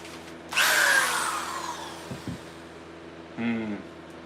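A power drill bores out old rusty rivets from medieval steel leg armour, whining up sharply, then easing off, with short clanks and a second brief drill burst near the end.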